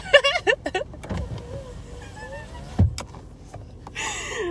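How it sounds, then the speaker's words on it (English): A pickup truck being opened, with a sharp door latch or handle clunk near the middle under a steady motor hum, followed by a softer rattle, while a person speaks briefly at the start. "who's opening my truck"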